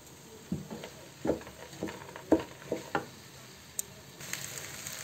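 A utensil stirs washed chana, moong and masoor dal in a pan, giving soft irregular scraping and wet shuffling strokes over a faint sizzle, close and fairly quiet.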